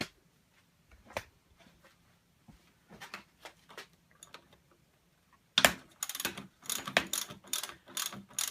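Socket wrench ratchet loosening the top fork clamp on a Honda CB1000R motorcycle during a fork spring change: sparse faint clicks at first, then a burst of louder, rapid ratcheting clicks in the second half, with no talking.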